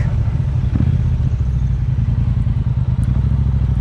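A Triumph Bonneville Bobber Black 1200 motorcycle engine idles loud and close, a steady deep throbbing rumble that holds even throughout, with no speech.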